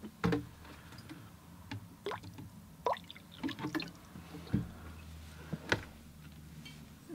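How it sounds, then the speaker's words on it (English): Watercolor painting water being changed for fresh clean water, heard as scattered close drips, splashes and small clinks of a water container, quiet and irregular with no talking. "I'll just change out my water, get some fresh, clean water."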